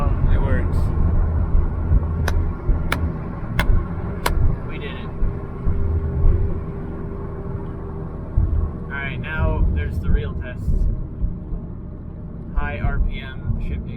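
A BMW running a new 5-speed manual transmission drives along, its engine rumbling and shifting pitch as it downshifts. Excited voices talk over the car noise throughout.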